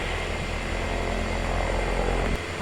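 A steady, droning video game airplane engine hum fills the whole stretch, loud and constant, with a brief thump near the end.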